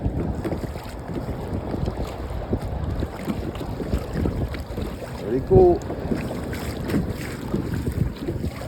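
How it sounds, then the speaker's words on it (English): A small PacMotor boat motor drones at about 2 knots, heading into heavy wind buffeting and lapping sea waves, with a brief spoken remark partway through. "The motor's handling the sea well."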